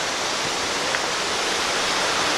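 A waterfall along the old Union Canal roars in a steady, dense wash of falling water, loud and close, with no voices.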